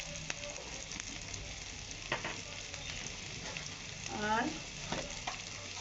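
Spices with coriander powder sautéing in a pan for a taro and mung dal curry, a soft continuous sizzle with occasional scraping stirs, close and fairly quiet, with one brief spoken word.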